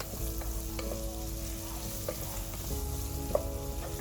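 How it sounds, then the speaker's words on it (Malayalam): Onion and ginger-garlic paste sizzle in hot oil in a pan while being stirred. A constant close frying hiss runs under repeated scraping strokes of a spoon, with no voices. "എന്നിട്ട് ഉള്ളിയും ഇഞ്ചി വെളുത്തുള്ളി പേസ്റ്റൊക്കെ ആഡ് ചെയ്തിട്ട് നന്നായിട്ട്"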